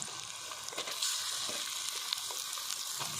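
Chicken pieces go into a hot pan of frying ginger paste, a bright steady sizzle with a few soft stirring scrapes, quiet and close, with no talking.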